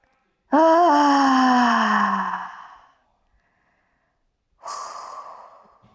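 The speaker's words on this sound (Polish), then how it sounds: "Trzy duże oddechy." A long, heavy breath with a voiced groaning edge tapers off, followed after a pause by a shorter, breathy exhale, close and clear.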